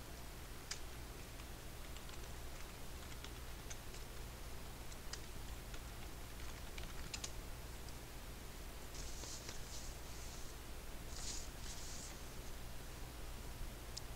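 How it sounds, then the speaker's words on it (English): Login details and a password typed on a keyboard for an IP camera setup, faint scattered key taps spread over a steady hiss of background noise, with a brief denser cluster near the end. "And go type the login information and password."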